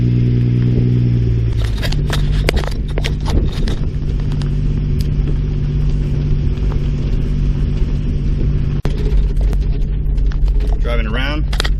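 A 1962 Ford Falcon with a straight-six engine idles with a low rumble, then pulls away and drives on with a steady engine drone and road noise, heard from inside the car. A voice speaks briefly near the end.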